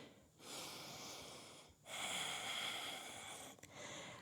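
Heavy breathing after a lower-body strength workout: two long, loud, noisy exhalations follow each other closely, with a brief catch of breath near the end.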